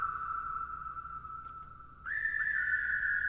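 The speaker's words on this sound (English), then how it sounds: "here's a whistling sample with a little bit of glide." A whistled tune, one clear sustained note that glides smoothly up to a higher held note, loud and close, with no talking.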